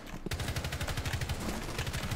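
Rapid automatic gunfire from Rainbow Six Siege, a sustained burst of evenly spaced loud shots with no pause.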